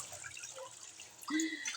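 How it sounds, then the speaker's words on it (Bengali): Dishes being washed under running tap water in a home kitchen sink, with faint drips, trickles and clinks of plates close by, quiet throughout and a bit fuller toward the end. "এই যে আমি থালা বাসন ধুই।"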